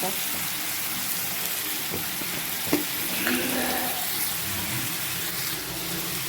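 Onion sizzles steadily in a hot pan while thecha is prepared, a continuous crackling hiss with small pops and stirring sounds throughout.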